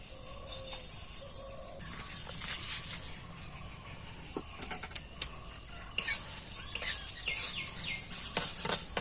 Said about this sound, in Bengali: কড়াইয়ের মধ্যে সব মশলাগুলো একটুখানি শুকনো খোলায় গাঁজার জন্য আমি দিয়ে দেবো